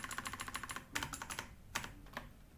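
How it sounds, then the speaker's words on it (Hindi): Quick, steady keystrokes on a computer keyboard during a spreadsheet formula entry, a rapid even run of clicks followed by a few slower, heavier taps, close and clear with no talking. "मैंने गलत टाइप कर दिया"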